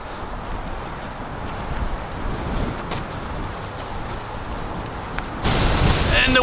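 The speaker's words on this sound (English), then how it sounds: "And the wind picks up again," Strong wind gusts buffet the microphone along Crest Road during a hike in high winds, producing a loud, steady roar that swells sharply louder near the end.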